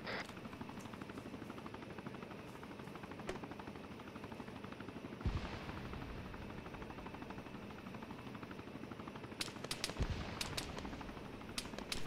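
A military helicopter in ArmA 3 drones steadily with a rhythmic rotor thump throughout, while sporadic gunfire cracks nearby, especially toward the end, with no talking.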